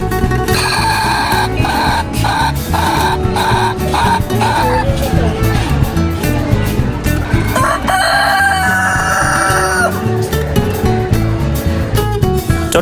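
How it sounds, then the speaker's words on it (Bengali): Several roosters crow loudly in overlapping cock-a-doodle-doos in a cage at Chattogram Zoo, with clucking hens and chatter mixed in throughout. "মোরগগুলো কত সুন্দর করে ডাকতেছে"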